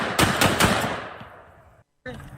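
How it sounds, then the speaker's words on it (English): A 50 caliber rifle fired at a range: a rapid burst of three or four heavy, loud reports with a decaying tail, followed by a brief silence. "Here's how you shoot a fucking 50 cal."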